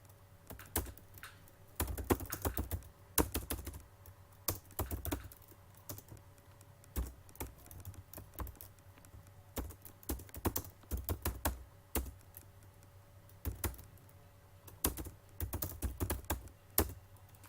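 Commands are typed on a computer keyboard during Solaris terminal work, producing irregular runs of clicky keystrokes with short pauses in between, close and clear with a faint steady hum behind and no voices.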